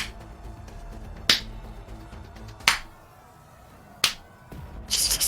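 Three or four soft, sharp claps spaced over a second apart, sounding close against quiet background hiss, with a rustle at the end.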